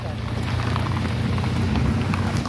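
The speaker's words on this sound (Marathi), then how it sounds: "पाऊस आला" Steady rain pours down during a Ganesh Chaturthi homecoming at a house in Konkan, a dense, even hiss at close range with a low rumble underneath and no break across the short span.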